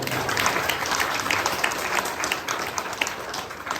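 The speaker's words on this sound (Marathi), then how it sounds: "सर्वांचं कौतुक म्हणून टाळ्या वाजवा." Audience applause at a gathering of Buddhist monks and visitors, a dense, sustained burst of many hands clapping at moderate distance, steady throughout.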